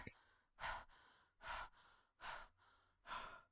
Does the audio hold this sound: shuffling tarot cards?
no